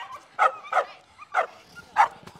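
A dog gives four sharp barks in an uneven rhythm, each loud and close, with quiet gaps between them.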